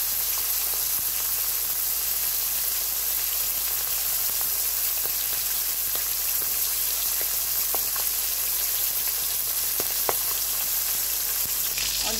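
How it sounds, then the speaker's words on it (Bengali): Pangas fish pieces coated in turmeric and salt fry lightly in hot oil, giving a steady, dense sizzle and crackle throughout with occasional sharper pops, close and continuous without any voices. "এখন তেলে ভেজে নিচ্ছি"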